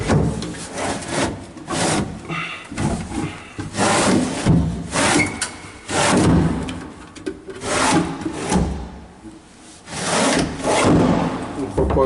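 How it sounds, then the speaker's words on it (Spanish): Wooden closet drawers with inner dividers slide open and shut over and over, rubbing and scraping wood with knocks, close and fairly loud, with a voice talking in between. "gavetas abriendo y cerrando."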